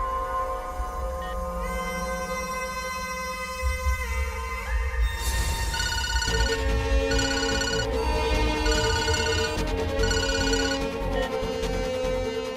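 A phone rings in a Malayalam thriller film scene, a repeating electronic ringtone pattern that grows louder and more insistent partway through, layered over a dense musical score with no speech.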